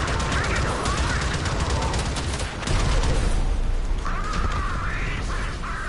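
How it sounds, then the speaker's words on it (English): Automatic weapon fire in Warframe, sustained rapid bursts with game effects and tonal alert sounds over them, fairly loud and continuous, with no talking. "We need to fire bursts."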